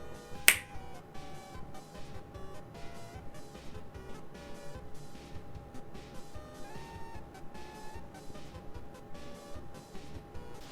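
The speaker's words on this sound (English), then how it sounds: "All I have to do is snap my fingers." A single sharp finger snap near the start, loud and close, then a steady background of road traffic with cars and trucks passing.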